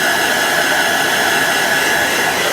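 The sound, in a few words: heat setting fabric ink, likely hair dryer or heat gun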